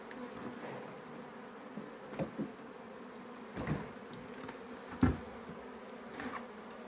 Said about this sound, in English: There's an okay bit of bees in there.